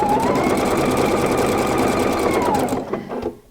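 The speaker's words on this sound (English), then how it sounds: "So I'm going to start right here and stitch for a little bit." A PFAFF creative icon sewing machine runs a straight stitch in one continuous fast, whirring burst, close and loud, then slows and stops near the end.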